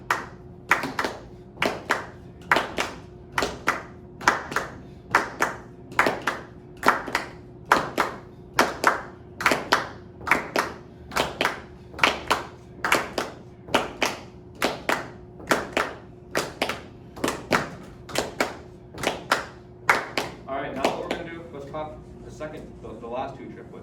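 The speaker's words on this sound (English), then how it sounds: "we're going to do this heartbeat thing where we're going to clap the first 2 triplets" A live audience of guitarists at a jazz workshop claps hands in unison in a steady triplet-based heartbeat pattern, sharp even claps repeating for about twenty seconds before dissolving into scattered murmur and talk.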